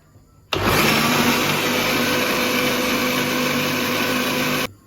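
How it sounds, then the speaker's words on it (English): An electric kitchen blender runs loud and steady for about four seconds, grinding chilies and other ingredients for a kofta meatball curry, starting and stopping abruptly with no talking. "So here I put all the things inside this blender, and now I will blend it."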